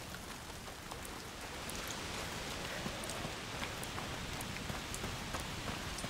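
Steady rain falls in A Plague Tale: Requiem, a constant hiss of drops pattering on surfaces with scattered sharper drips, continuous and fairly close with no voices.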